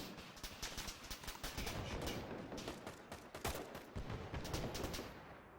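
Dense, rapid gunfire rattles on steadily throughout a video game firefight, as shooters fire across from another building, with overlapping bursts and sharp reports at a moderate distance.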